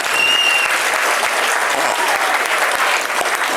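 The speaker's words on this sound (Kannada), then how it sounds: "ಪೇರೆಂಟ್ಸ್ ಜೋರಾಗಿ ಚಪ್ಪಾಳೆ ತಟ್ಟಿ" Parents clap loudly together at a preschool annual day, a dense, steady burst of applause filling the hall for several seconds with a faint murmur beneath.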